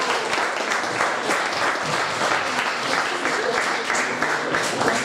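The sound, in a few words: applause for a candidate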